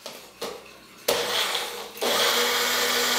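A protein shake is mixed in a shaker or blender, starting with a few short bursts and then settling into a loud, continuous whirring rush, close up with no talk.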